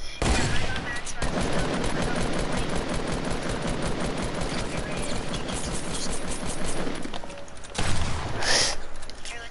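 Gunfire in Fortnite: a dense, sustained volley of rapid shots and clattering impacts keeps going for several seconds with barely a pause, ending in a louder burst.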